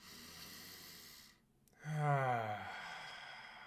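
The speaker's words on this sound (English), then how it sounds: "one more big inhale through the nose" A soft, slow breath is drawn in through the nose during a guided meditation, followed by a brief pause and then a longer, fuller exhale that fades gently; quiet and close.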